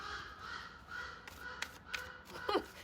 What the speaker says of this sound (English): That bird is screaming. Talk about confirmation, huh? And that's a crow.